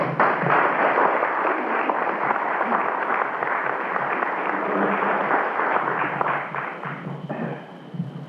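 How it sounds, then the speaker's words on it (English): Convention audience clapping, a loud, steady wall of applause lasting about eight seconds before tapering slightly at the end. "round of applause for John, please."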